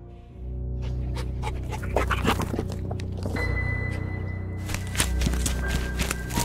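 Audio-drama effect of a dog charging, panting hard and close while scrabbling footsteps and thuds run underneath, with tense background tones steady throughout.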